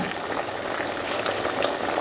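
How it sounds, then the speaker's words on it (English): A pot of water comes to a rolling boil for cooking macaroni, giving a close, continuous bubbling hiss with no pauses. "When the water boils, I add some salt in here"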